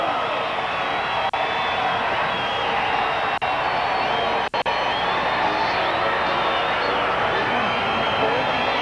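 A stadium crowd at a Canadian football game, Calgary Stampeders at Saskatchewan Roughriders, cheers after a touchdown, a broad steady roar with a commentator talking over it.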